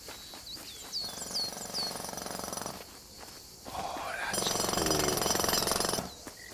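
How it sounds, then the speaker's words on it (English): A jackhammer runs in the video game Alba: A Wildlife Adventure, loud rapid hammering bursts that stop and restart, with bird chirps and tweets heard between the bursts. "What is this called? A jackhammer?"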